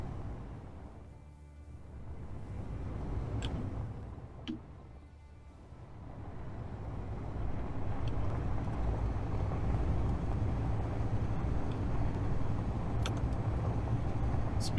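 A vehicle on 5x5 wheels in Space Engineers rolls off an edge, giving a steady low engine-and-rumble drone that builds and holds loud, with a few faint clicks over it and no talk.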